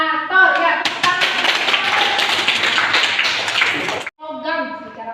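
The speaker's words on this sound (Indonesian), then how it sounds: "Ya, tepuk tangan." Classroom clapping from a Grade 10 physics lesson, a quick burst of many hands lasting roughly three seconds that cuts off sharply, framed by speech on either side.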